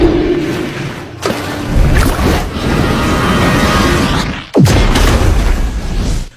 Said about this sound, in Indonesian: Dari ledakan tersebut,